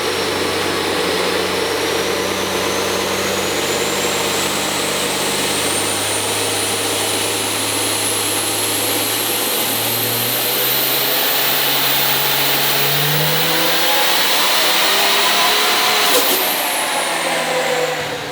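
A twin-turbo 12V Cummins diesel pulling truck roars at full load on a dyno, a loud, sustained drone with a rising turbo whistle that climbs steadily before cutting off sharply near the end.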